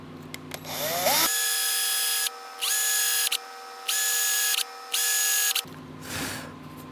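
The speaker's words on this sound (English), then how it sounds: "then we can drill all 4 holes that we need" A power drill whines at high speed in several bursts, stopping and restarting between holes drilled in a Fender bass headstock to fit a Hipshot drop D tuner, loud and close with no talking.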